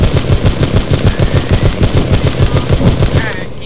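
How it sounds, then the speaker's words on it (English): A light machine gun firing in the video game Castle Miner Z: a rapid, evenly spaced stream of loud, close shots running continuously for a few seconds. "This is a light machine gun."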